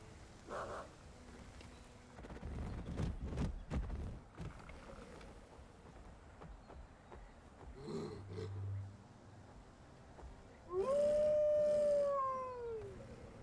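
Hunting dogs howling in the Wild Hearts video game, a drawn-out, wavering, rising-and-falling howl near the end that follows earlier scattered thumps and rumbling game noise.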